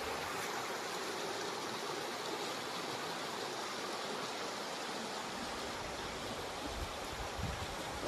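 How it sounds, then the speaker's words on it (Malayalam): Steady rushing of a swollen stream flowing continuously through a cardamom plantation, a broad even wash of water with no voices. "തോട്ടിൽ ശരിക്കും വെള്ളമായിട്ടുണ്ട്"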